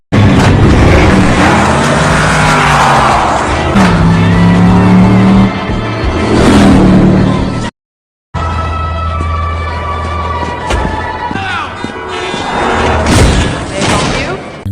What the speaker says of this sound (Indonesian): Lalu lanjut ngebut di jalanan.